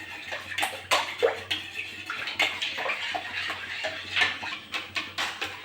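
Milk is poured into warm water in a wok for dudh puli pitha, a close splashing and trickling pour with light clinks of utensils against the pan.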